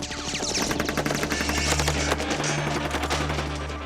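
Sustained automatic gunfire riddles a 'Black Beauty' car replica with bullet holes, a loud, dense rapid-fire stream of shots continuing without pause and no talking.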